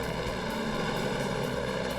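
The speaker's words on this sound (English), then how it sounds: "Customs Service helicopters supported the ground units in the search." A Customs Service helicopter flying over Texas backcountry: a steady, droning engine roar overhead, constant and fairly loud throughout, with no voices.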